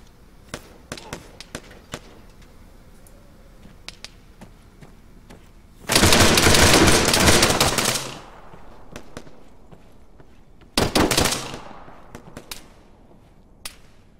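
Gunfire in Arma on the Tanoa map, with scattered single sharp cracks and two dense, loud bursts of rapid automatic fire, the second shorter, heard close with no talk over them.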